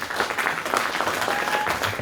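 Steady applause fills the air as cricket players step up to collect their awards at a prize ceremony, a continuous crowd clapping with no break.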